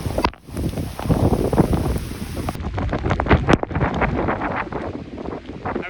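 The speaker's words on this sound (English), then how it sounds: "The first day of rain in Girona, and it's proper." Heavy rain in Girona, a dense hiss of downpour mixed with gusty wind buffeting the microphone, loud and continuous with no talking.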